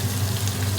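Onions dropped into hot vegetable ghee give off a steady, soft sizzle of frying, close and even over a brief moment, with a low hum beneath and no voices.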